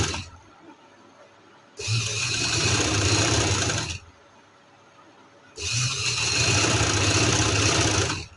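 Sewing machine stitching a trouser seam runs in two steady buzzing bursts of about two seconds each, separated by a short quiet pause, close and fairly loud.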